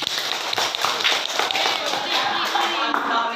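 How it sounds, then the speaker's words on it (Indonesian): Students in a classroom break into quick, scattered applause, a dense patter of clapping lasting a few seconds, with voices talking over it. "Tepuk tangan."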